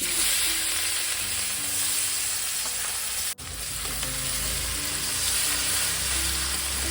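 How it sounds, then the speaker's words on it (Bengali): Black cumin seeds sizzle in hot oil for tempering a pomfret curry. The frying hiss is loud and close and holds steady throughout, broken only by a brief dropout near the middle, with occasional stirring noises and no talk. "সামান্য কালো জিরে ফোড়ন দেবো"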